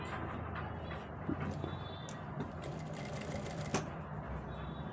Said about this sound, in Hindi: अब दोस्तों हम यहाँ पे एक सिलाई लगाएंगे एक पैर की।